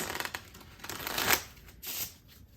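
Playing cards drawn from a deck, a short flurry of papery flicks and shuffling slides close by, with no talking.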